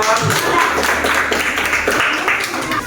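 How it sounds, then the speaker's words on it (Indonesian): A classroom full of students claps for a presenting group, giving steady, dense applause that fills the whole stretch, with voices mixed in underneath. "beri tepuk tangan buat kelompok 4"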